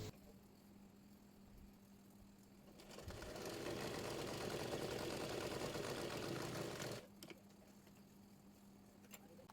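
An electric sewing machine stitches salwar fabric, a soft close whirring run of about four seconds between quieter pauses.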